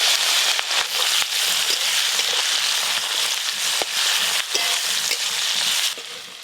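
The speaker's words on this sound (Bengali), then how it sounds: "প্রথমে চিংড়ি মাছগুলো ভেজে নেব।" Prawns fry in hot oil in a pan, a loud steady sizzle with popping crackles throughout that drops slightly quieter near the end, no voices.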